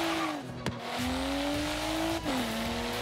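A BMW M4 Liberty Walk drifting in Forza Horizon 3, its engine holding a steady droning pitch with tire squeal, two brief gear-shift dips and a sliding, skidding tone throughout.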